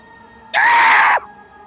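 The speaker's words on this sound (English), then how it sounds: "And that's my scream." A loud, strained scream of unintelligible agony from a character in the horror game Slay the Princess bursts in suddenly and holds for roughly half a second before breaking off, with quiet background ambience before and after.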